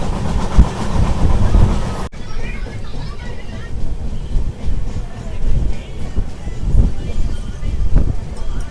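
A passenger train arrives at Annavaram station, its rumble and clanking wheel noise loud at first, then cutting to a quieter stretch of low rolling rail sound with intermittent knocks.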